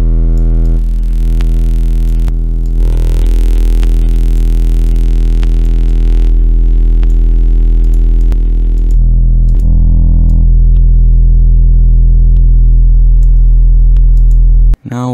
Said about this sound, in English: now so we're just gonna add some distortion